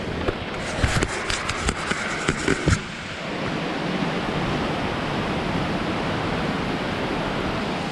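Steady heavy rain pours during flooding in Nakhon Si Thammarat, southern Thailand, a dense constant hiss, with a few sharp knocks and patters near the microphone in the first seconds.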